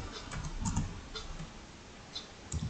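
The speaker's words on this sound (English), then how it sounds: "I'm going to just type the word popcorn" Typing on a computer keyboard while entering text in a cutting-machine design program, heard as quiet, irregular light clicks and taps close to the microphone, with no voices.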